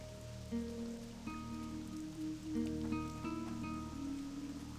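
Rainfall in the World of Warcraft zone Feralas, a steady patter running beneath layered game music with tonal chimes throughout.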